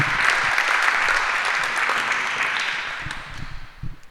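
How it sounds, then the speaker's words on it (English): A room at an annual general meeting claps for a speaker after a finance presentation, a full burst of applause that gradually tapers into a few scattered claps and some faint murmuring. "Come on, round of applause for Peter"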